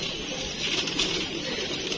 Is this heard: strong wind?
no